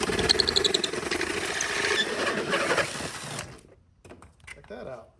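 A cheap $40 tool, a chainsaw-style cutter used as a drill, bores fast through a piece of drywall with a loud, continuous mechanical grinding whir that cuts off abruptly, followed by quieter handling noises.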